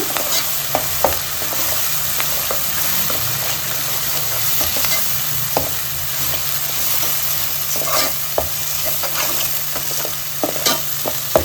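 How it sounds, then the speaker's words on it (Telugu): Coconut masala frying in oil in a pan for chicken curry, a steady close sizzle broken by frequent spatula stirs and scrapes, with no voices. "ఈ మసాలా అంతా ఆయిల్లో ఫ్రై అవ్వాలి బాగా"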